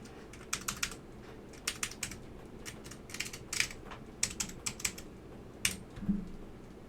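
Irregular bursts of keystrokes on a Geon Works Frog TKL mechanical keyboard fitted with Alps SKCM White switches, clicking close and crisp in uneven clusters with short pauses between runs.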